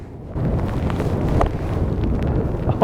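Strong wind whips across an exposed links golf course, a loud, steady low roar and buffeting against the microphone with no voices.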